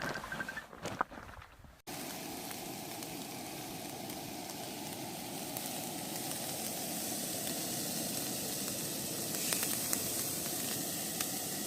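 Steak sizzling on a camp stove for tacos outdoors in the Colorado Rockies, a steady broadband hiss and crackle that holds at even loudness for about ten seconds after a brief quieter opening.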